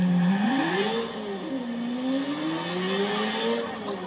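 A car engine in the video game Watch Dogs revs loud and close, its pitch climbing, dipping, then rising again in a smooth sustained drone that runs alone.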